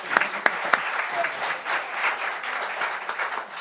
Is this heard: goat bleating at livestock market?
no